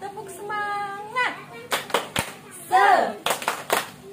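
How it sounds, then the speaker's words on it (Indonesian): Children do a rhythmic tepuk semangat spirit clap in a classroom lesson: a sung, chanted voice opens, then a patterned run of sharp, close hand claps mixed with voices calling out. "marilah kita bersama-sama melakukan kegiatan tepuk semangat"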